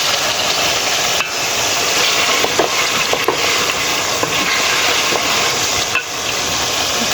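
Ginger paste frying in hot oil for a quick biryani, a loud dense continuous sizzle with stirring scrapes and occasional knocks of the spoon against the pan.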